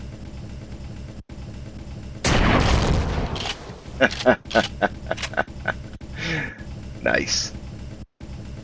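A heavy weapon fires in the space game Empyrion, one long booming roar followed by a string of sharp bursts and a later rising whine, with a voice commenting briefly.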